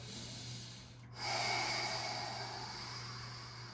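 Slow, deep breathing during an all-levels mountain core yoga session: a soft airy exhale swells after a brief pause, then tapers into steady breath noise over a faint constant hum, with no talk.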